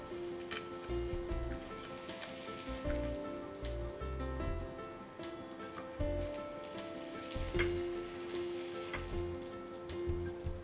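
Aloo barule, deep-fried potato rolls, crisping on a tawa griddle with a light drizzle of oil, giving a steady, close sizzle and crackle that runs unbroken, with occasional soft tapping from turning the pieces.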